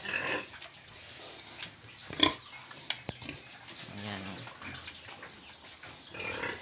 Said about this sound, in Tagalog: Ito yung isang inahin. Ayan. Buntis na din ito.